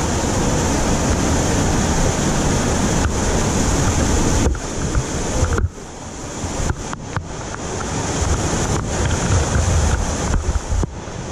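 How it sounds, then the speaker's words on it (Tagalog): Strong, fast-flowing river water rushes through a cave, a loud, steady roar with some wind buffeting at the microphone and no talking. "malakas ang tubig ngayon"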